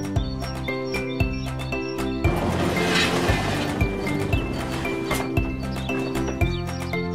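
A cartoon horse whinnies and its hooves clop in a steady, rhythmic patter, close and clear over bright, continuous background music.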